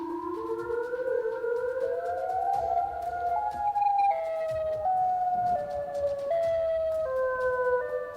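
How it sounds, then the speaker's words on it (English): A wailing Siren Head cryptid call, heard in the woods, rises and falls like a tornado siren in overlapping sustained tones, moderately loud and steady with no voices. "this sounds like tornado sirens from Chicago"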